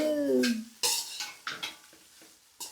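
A spoon stirs rice in a metal pot, clanking against the sides in several sharp, separate knocks; a short whistling or squeaky tone sounds at the start.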